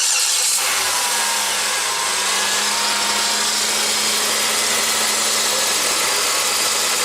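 A 2008 Chevrolet Impala engine cranks and catches, then settles into a steady, loud idle heard close up with no voices.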